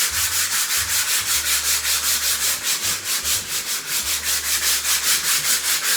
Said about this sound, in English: So you just sandpaper block, not too harsh a sandpaper, maybe a 120, something like that,